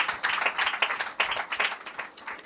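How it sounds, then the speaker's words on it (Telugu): A church congregation at a Sunday service claps loudly and steadily, dense overlapping handclaps pulsing in uneven bursts with no talk over them. "గట్టిగా చప్పట్లు కొట్టండి"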